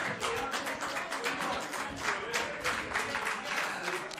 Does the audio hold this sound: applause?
yes